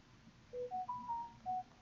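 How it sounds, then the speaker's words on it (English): A telephone in a room gives a short run of faint electronic tones, five brief beeps stepping up and down in pitch, quiet and with no speech. "The phone is in the room with me."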